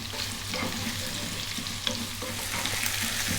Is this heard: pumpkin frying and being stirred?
yes